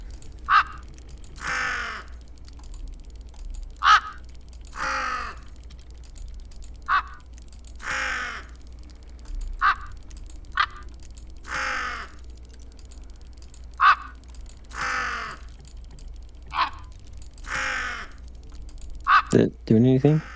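A raven caws repeatedly in the video game Tick Tock: A Tale For Two, sharp isolated calls spaced a few seconds apart against a quiet background, alternating short and longer cries, with faint clicking between them.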